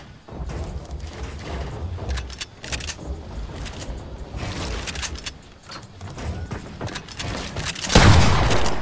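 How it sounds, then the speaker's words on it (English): Shotgun blasts in a first-person video game, heavy booming shots and thuds repeating through the clip over busy game noise, with a louder, denser burst near the end. "How the fuck does your shotgun hit for so hard?"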